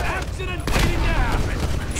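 Shotgun blasts go off at close range in the video game GTA 5, a loud burst of heavy gunfire with booming impacts, backed by game sounds.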